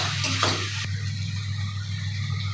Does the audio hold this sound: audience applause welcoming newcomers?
no